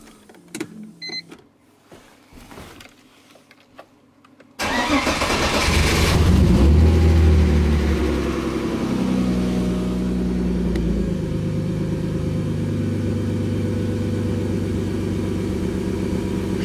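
A BMW E30 engine, just back from a fuel injector repair, cranks and catches after a few quiet clicks, flares up loudly, then settles into a steady, even idle nearby.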